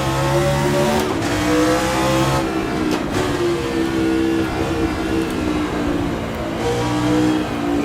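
Formula One race car engine revving hard through corners at Mosport in the Assetto Corsa racing game, a loud continuous high-pitched engine note rising and falling with gear changes throughout.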